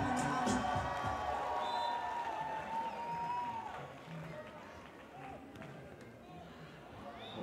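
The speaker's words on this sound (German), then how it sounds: "Applaus für Clemens Doppler und Alex Horst." Crowd applause and cheering for beach volleyball players Clemens Doppler and Alex Horst at the Klagenfurt Major, a steady sustained roar with an announcer talking over it.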